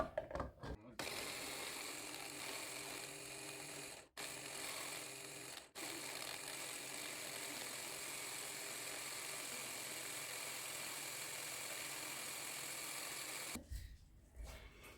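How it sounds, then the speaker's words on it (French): Parmesan shortbread dough ingredients with olive cream are blitzed in a food processor, a loud steady motor whir that runs nearly nonstop with two brief pauses and then stops near the end. "Et je vais tout broyer ensemble."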